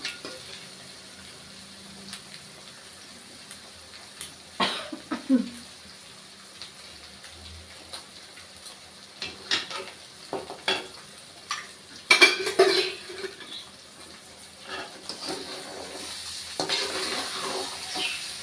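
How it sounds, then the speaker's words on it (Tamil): Egg rice being gently stirred and mixed in a pan, with soft scraping, light clinks of a spoon against metal and faint sizzling, quiet and intermittent. "அப்படியே கலந்து நல்லா இருக்கும் மெதுவாக கலந்து விடலாம்"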